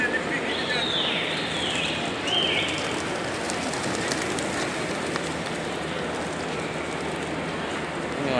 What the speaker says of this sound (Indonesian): Merpati di sekitar pelataran luar Masjidil Haram.